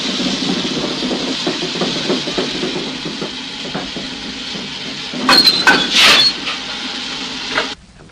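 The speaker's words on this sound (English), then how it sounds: "the shunter fastened the coupling" A steam engine eases gently up to passenger coaches and couples, a steady low engine chuffing rumble with a cluster of metallic clinks and clanks from the coupling near the end before it cuts off.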